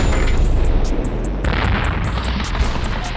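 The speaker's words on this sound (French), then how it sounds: "Derrière nous, l'artillerie canarde les positions des Viettes." Dense, continuous rumbling barrage of artillery shelling on Viet Cong positions in the Vietnam War, loud and sustained with repeated booms and sharp pops layered over a constant roar, no talk.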